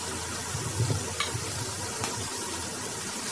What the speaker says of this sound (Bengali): তেলটা গরম হয়ে গেছে, আমি চিংড়ি মাছটা ভাজা করে নিচ্ছি।